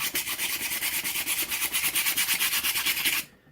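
Painted wood on a Brookside Ice House model kit is scraped hard to distress it, giving a rapid rhythmic rasping of even back-and-forth strokes, close and loud, that stops abruptly near the end.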